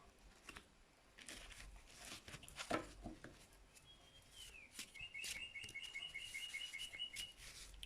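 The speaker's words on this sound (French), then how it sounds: "J'espère que les oiseaux, c'est pas trop fort. On les entend de chez moi." Birds chirp outside, muffled by a closed French window, with a quick run of repeated high tweets in the second half over faint room noise and a few soft rustles.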